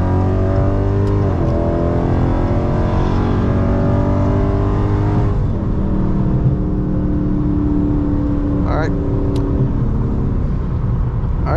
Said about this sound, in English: another one of you stepping on your car and, you know, just wide open throttle